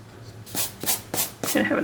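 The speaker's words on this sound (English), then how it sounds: "And you can erase all this stuff inside." Pencil marks being erased on a landscape painting, heard as several short rubbing strokes in quick bursts, close and moderately loud.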